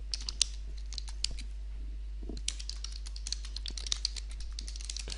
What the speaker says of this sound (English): And I'll type in a new question